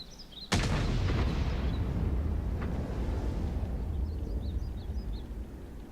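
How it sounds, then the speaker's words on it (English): A World of Tanks tank gun fires one heavy boom that rolls into a long, low rumbling tail, with faint distant shots and chirps trailing behind. "Let's see where these shots come from"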